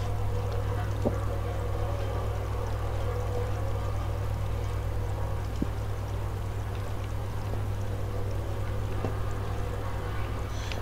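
Water flowing in the Minetest block-building game, heard as a steady, continuous rushing wash that holds an even level throughout with no voices.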